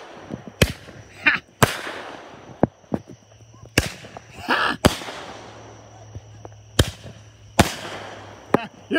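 Loud booming fireworks cannons fire in a series of sharp blasts, some followed by crackling bursts, spaced irregularly over several seconds outdoors.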